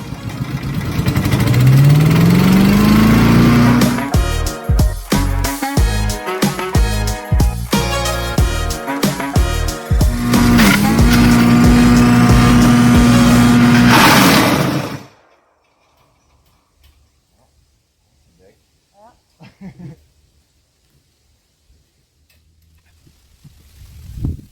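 Champion 3 inch 2-in-1 chipper/shredder engine running loudly up close, starting up with a rising pitch and then clattering and rattling unevenly before it shuts off around fifteen seconds, followed by near silence with faint scattered sounds.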